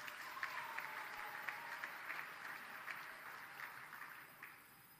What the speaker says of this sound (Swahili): Niwapongeze tena, tupigiane makofi.